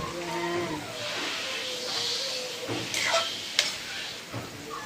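Chopped kundol (winter melon) sautés in a pan with browned shrimp, a steady close sizzle broken by scraping stirs and a sharp clack near the end, with no voices.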